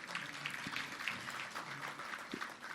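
Scattered clapping from a small audience at a morning business networking event, fairly quiet and thin, with a few distinct claps over a low room murmur.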